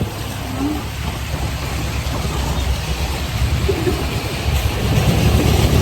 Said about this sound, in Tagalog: kasi grabing ulan po dito